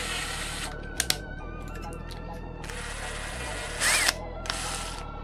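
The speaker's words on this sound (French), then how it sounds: "je vais quand même essayer de vous montrer comment ça se perce." A power drill boring holes to mount a Raspberry Pi fan: short bursts of whirring drilling with a couple of sharp clicks, over a steady background hum, while a person talks.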